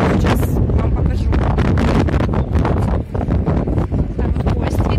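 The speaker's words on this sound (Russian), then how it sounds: "Я надеюсь, меня слышно, потому что здесь очень сильный ветер." Strong wind blasts into the microphone outdoors near a monument in Volgograd, making a loud, continuous rumbling roar. A person talks underneath it.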